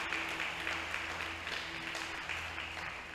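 Church congregation applauding in praise during a Spanish-language sermon on God's patience: a continuous, fairly distant and soft wash of many hands, with a low steady hum beneath.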